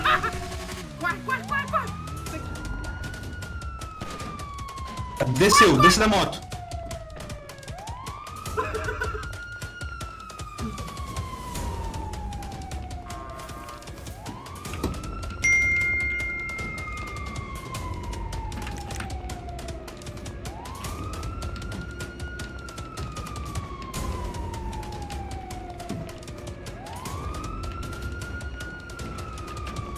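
Police car siren from GTA wails in repeated rising and falling sweeps, cycling steadily through a busy game scene with shouting voices, a short burst of noise and a dog barking.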